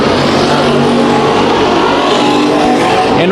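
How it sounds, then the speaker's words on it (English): Hobby stock race cars at Bakersfield Speedway roar loudly and continuously as they finish a heat race, engines revving hard in a dense, close wall of sound with a car sweeping past at the end. "Marcus Wonkum comes to the checkered flag to win the hobby stock heat race number 3 of the night."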